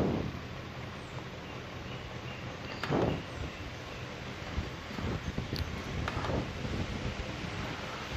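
A solar-powered DC table fan runs at its top speed, giving a steady, loud rushing whoosh of moving air with no voice over it.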